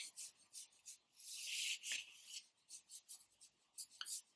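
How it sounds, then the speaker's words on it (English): Pencil strokes rub lightly across paper while sketching the curved feathers of a realistic bird, soft close scratchy bursts in an irregular rhythm, one longer stroke standing out among short quick ones. "just really lightly draw those elements on, trying to get the curve of the feathers at the back"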